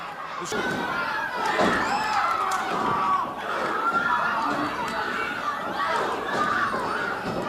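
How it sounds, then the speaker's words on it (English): A 1981 Mid South wrestling crowd roars and chants in rhythmic waves, a loud, dense mass of shouting voices filling the arena with no clear break. "The crowd is shouting, USA, USA."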